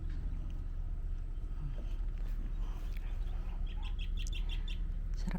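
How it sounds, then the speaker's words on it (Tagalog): Birds chirping in a hot Philippine countryside, a cluster of short high chirps near the end over steady low outdoor rumble, moderately faint. "Kung maririnig mo yung mga huni ng ibon na ganyan"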